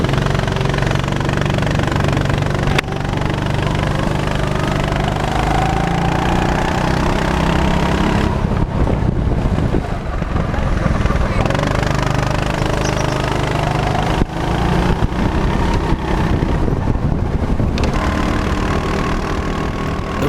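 Go-kart engines roar during a kart race, a dense, continuous buzzing drone of several small engines close by, loud throughout with no voices.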